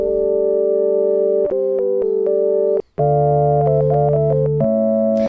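Sustained, organ-like Korg Minilogue synthesizer chords shift between a few held notes, with a brief gap midway; full, steady and loud with no voices.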